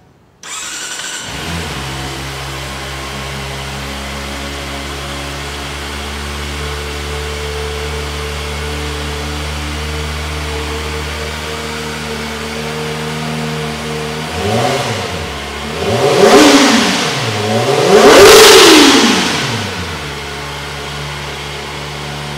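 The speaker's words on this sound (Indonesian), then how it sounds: "suara knalpotnya kayak gimana dari model knalpot baru di ZX25 ini?" A Kawasaki ZX25RR 250cc four-cylinder motorcycle engine starts and idles steadily for a while, then revs up three times in rising, high-pitched screaming bursts, close and loud.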